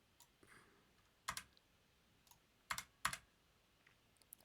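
Keys clack on a computer keyboard in short, irregular bursts, a handful of sharp taps and double taps spaced through a quiet room, close and fairly faint.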